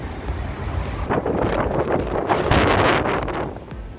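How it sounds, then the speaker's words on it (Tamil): Strong wind blows outdoors, a loud continuous rushing roar buffeting the microphone and swelling toward the middle before easing slightly. "நல்லா காற்று அடிக்குது"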